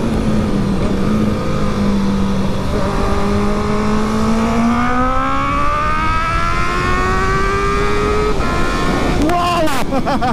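Honda CB650R motorcycle with an OEM quickshifter revs hard and climbs through the gears, engine pitch rising and dropping with each quick shift, loud and close, ending in a sharp burst of revs.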